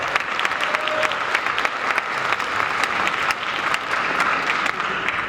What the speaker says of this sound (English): I have to give a round of applause to Alejandro Rios